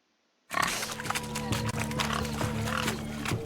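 Pigs chased in a swineherd racing event in The Witcher 3: Wild Hunt, with game sound bursting in abruptly and staying dense, grunts mixed with clattering hooves and busy ambience throughout.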